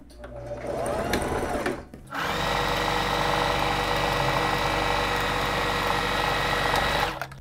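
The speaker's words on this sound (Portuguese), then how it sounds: "Aqui então eu vou reforçar a costura" A Singer Simple 3223 sewing machine reinforces a seam on a child's dress: a short burst of stitching, a brief pause, then a longer loud, steady mechanical whir and hum up close.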